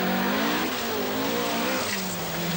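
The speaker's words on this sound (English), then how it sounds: "Roger Clark is giving his V8 engine Triumph TR7 its first forest outing" Triumph TR7 rally car with a V8 engine driving a forest stage during a 1980 rally, its engine revving loud and continuous with rising and falling pitch and brief tire noise, close and steady throughout.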